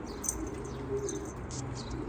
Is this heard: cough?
no